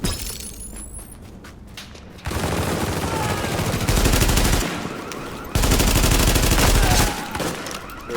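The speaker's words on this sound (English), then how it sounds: "Dude, I just tanked that sniper shot." Bursts of automatic gunfire and a sniper shot in The Division, loud and sustained in two long rattling volleys with a sharp crack and shattering sounds before them.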